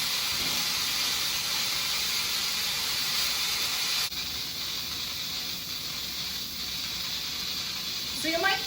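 Instant Pot pressure cooker venting steam while making mac and cheese, a loud continuous hiss that stays steady for several seconds and eases slightly partway through.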